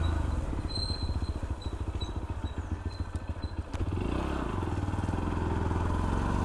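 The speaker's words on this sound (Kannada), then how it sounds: "ಗಾಡಿ ಏನು ಕೋಲ್ಡ್ ಸ್ಟಾರ್ಟ್ ಆಯಿತು. ಇವಾಗ ಹೊರಡಿದೆ." A Bajaj Pulsar NS125 motorcycle running shortly after a cold start, its single-cylinder engine putting out a steady rapid thrum with a slight shift in tone partway through, loud and close with some wind rush and no talking.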